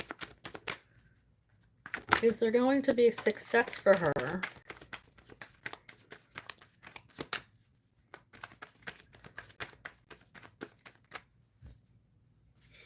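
Tarot cards are shuffled by hand in a brief, crisp riffling burst of about two seconds, with a person talking before and after it.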